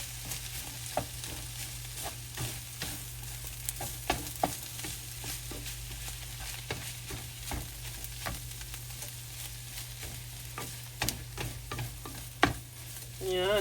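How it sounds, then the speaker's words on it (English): A spoon stirs cheese and heavy cream into a hamburger and broccoli skillet, giving soft scraping strokes and occasional clinks over a low, constant sizzle, fairly quiet with no talking. "And we're also going to add our 2 tablespoons of heavy cream. And we're gonna stir that in."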